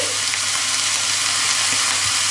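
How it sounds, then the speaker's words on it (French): Beef and vegetables sizzle loudly and continuously in a hot pan, a dense crackling hiss with occasional stirring scrapes. "Quand la viande a bien sauté, qu'elle est bien colorée, on y ajoute nos légumes."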